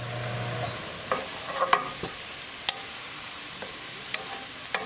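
Onions stirring and frying in a pan for mushroom dal, a soft steady sizzle broken by a few sharp clicks and scrapes of a spoon against the pan, close and moderately quiet, with no talking.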